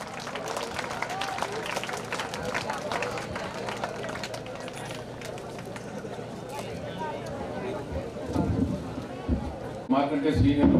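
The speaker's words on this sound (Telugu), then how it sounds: "క్లాప్స్." An audience claps at a school alumni meet, with dense, sustained applause mixed with crowd murmur and talking that carries on throughout and grows louder near the end.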